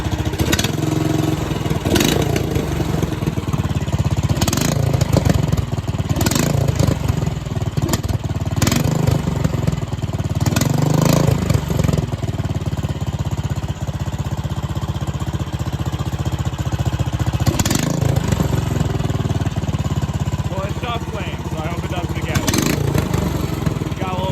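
A Predator 301cc small gas engine runs continuously with a rough, throaty, loping Harley-like exhaust with exhaust leaks, steady and loud, with occasional sharp knocks and a voice talking under it.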